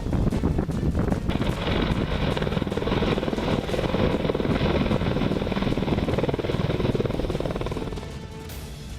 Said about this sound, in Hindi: अपाचे अटैक हेलीकॉप्टर दुश्मनों को नहीं बख्शता